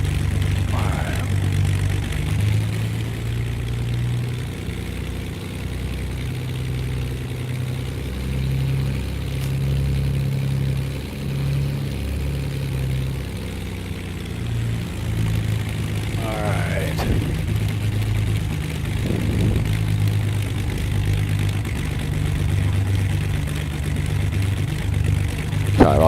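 Twin propeller engines of a Beechcraft Baron 58 in a flight simulator, a steady droning hum that swells as power comes up for takeoff, with brief clicks and bumps over the continuous engine tone.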